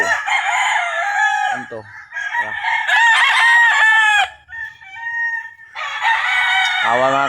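A rooster crows loudly and close, several long harmonic calls in a row, with a voice briefly talking between them.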